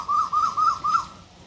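An Asian koel calls nearby with four quick, clear rising-falling whistled notes in a steady rhythm, then falls silent against quiet outdoor background.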